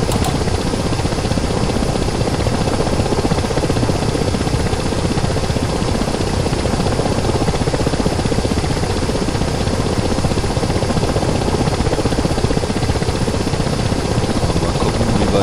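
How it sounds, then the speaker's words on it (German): A Ka-50 Black Shark attack helicopter in the DCS World flight simulator drones on steadily with a dense, constant rotor and turbine roar, loud and unbroken throughout with no talk over it. "Der zweite Hubschrauber ist jetzt auch wieder in Position."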